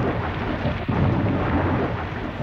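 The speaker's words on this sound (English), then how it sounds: "it started to rain and lighten and thunder in a very dreadful manner" A heavy thunderstorm roars close by, with a sudden rumbling crack of thunder breaking over dense, steady rain. It is loud and continuous, with no voices.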